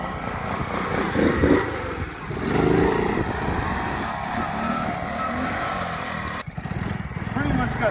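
A Pitster Pro pit bike engine runs steadily and loud up close, revving and dipping as gears are shifted, with a brief drop near the end before the engine picks up again; voices talk over it at times.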